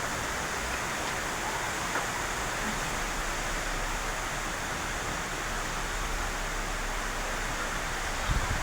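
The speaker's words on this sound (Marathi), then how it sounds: "हे पहा मस्तपैकी असा पाऊस पडत आहे" Steady rain at the start of the monsoon, heard as an even, dense, broadband hiss that stays at a constant level throughout, with no distinct drops and no voices.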